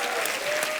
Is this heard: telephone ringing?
no